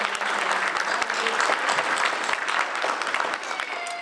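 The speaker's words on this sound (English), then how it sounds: "Let's give her a round of applause for that great rendition." Sustained audience applause at a military university graduation ceremony, dense and steady clapping filling the hall after a staff sergeant's sung rendition, continuing evenly throughout.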